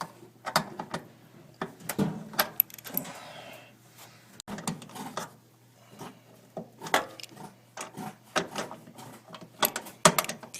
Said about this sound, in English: I got my trusty adjustable wrench here. I'm going to go ahead and adjust it to the right setting and loosen our little bolt here